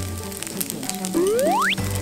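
Shiitake mushrooms frying in a little oil give a steady close sizzle, with a bright rising whistle-like tone sweeping upward across the second half.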